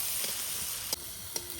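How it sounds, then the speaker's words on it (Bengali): Onion and tomato frying in a pan at a family picnic, with a continuous bright sizzle and hiss and a couple of sharp clinks from stirring near the end. "তোমার পেঁয়াজ আর টমেটোটা ভাজা হয়ে গেছে"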